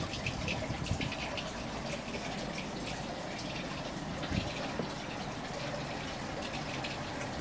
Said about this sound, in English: flooded by the solar powered water pump.